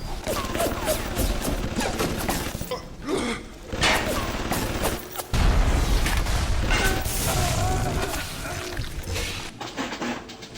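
Turrets open fire in the video game Bioshock, sustained loud bursts of gunfire and booms that run almost without a break, with short dips in between.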